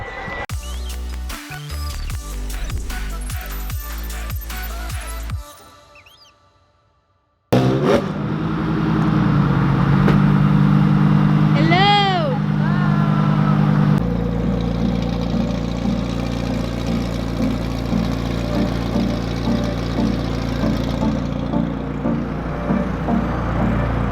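Lamborghini engine idling with a steady low rumble that carries through most of the stretch, broken by a short quiet gap near the start and then settling back into a constant drone.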